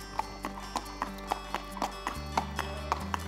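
Horse hooves clip-clop at a steady walking rhythm on a hard surface at a horse training facility, about a dozen evenly spaced clear strikes over a low background tone.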